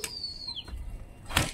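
A brief burst of wingbeats as a pigeon flaps past, with a faint whistling tone and a louder flutter near the end, against outdoor background noise.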